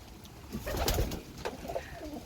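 Soft pigeon cooing in low murmuring phrases inside a pigeon loft, fairly faint with a quiet background.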